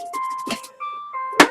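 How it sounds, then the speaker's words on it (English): A mobile phone ringing nearby with a melodic electronic ringtone, steady tones that pause and resume, broken by a couple of short thumps and rustles. "That's my phone."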